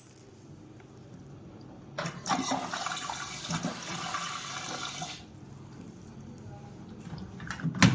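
Water rushes into an 8 kg LG washing machine with a loud splashing hiss for about three seconds, then settles into a quieter trickle and drip.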